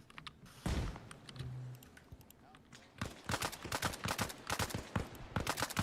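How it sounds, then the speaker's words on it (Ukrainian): Rapid bursts of gunfire in the video game Arma Reforger, with sharp cracks in quick succession, a lull, then sustained volleys rattling on and off at moderate distance. "З підстанції стріляють, з підстанції стріляють"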